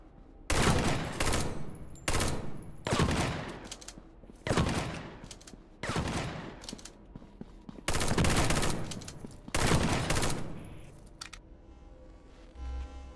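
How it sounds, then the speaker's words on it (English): Repeated bursts of rapid automatic gunfire from a three-round-burst weapon in the shooter game Arcticide, loud clustered volleys separated by brief pauses, with no talking over them. "It's a 3-round burst? With a nasty recoil?"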